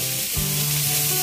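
Vegetables sizzle in a hot pan while being lightly roasted for a vegetable chicken kebab, a loud steady frying hiss that is close and runs without a break.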